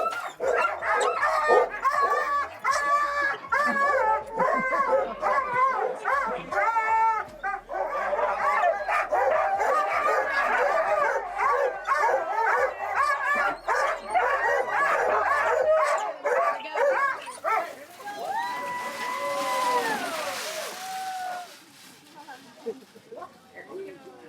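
A kennel of sled dogs at a Skagway, Alaska musher camp barks, yips and whimpers in dense overlapping bursts before a run, loud and near, easing into higher whines toward the end, with human voices mixed in.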